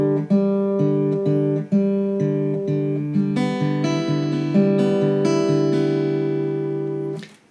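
Open guitar strings plucked in a thumb picking pattern: a steady run of bass notes with sustained ringing strings above, moderately loud and alone, fading out at the end.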